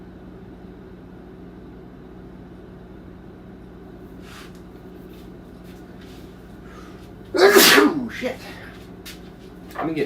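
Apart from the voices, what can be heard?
sneezing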